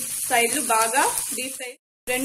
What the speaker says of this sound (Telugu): గోల్డెన్ కలర్ వచ్చే వరకు బాగా ఫ్రై చేసుకోవాలండి